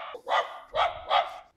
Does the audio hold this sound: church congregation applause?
no